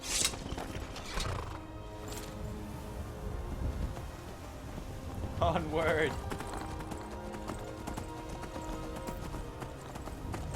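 Horse in the video game Skyrim, hooves clip-clopping steadily throughout with a whinny midway, under game music and a man's brief spoken word.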